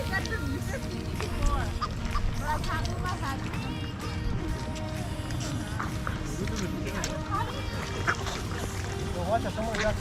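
Geese honk and ducks quack in a busy, continuous chorus in Alberta, with people talking over the noisy birds and water throughout.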